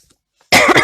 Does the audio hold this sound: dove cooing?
no